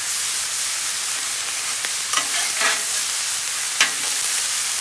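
Pineapple fried rice stir-fries on a Blackstone griddle, giving a steady, loud sizzle with a few scraping spatula strokes cutting through.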